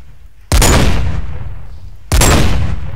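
Two loud, sharp gunshots in a video game, spaced about a second and a half apart, each with a long booming decay that fades out afterward.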